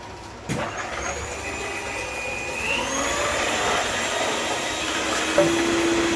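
An electric hand mixer starts up and whirs steadily while beating brownie batter flavoured with vanilla essence, a close, continuous motor whine that rises slightly toward full speed.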